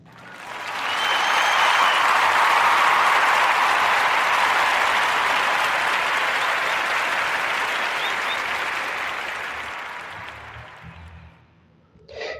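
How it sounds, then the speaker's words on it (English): A studio audience gives a warm round of applause for a guest: steady, dense clapping that swells quickly, holds for about ten seconds and then tapers away. "But give a warm round of applause for Yaba Baker and his cartoon series."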